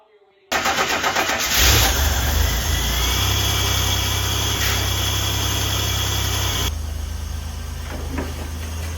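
A Buick Grand National turbo engine firing up for its first startup after a rebuild, cranking then catching into a loud, steady rumbling idle that holds for several seconds before dropping slightly, close by.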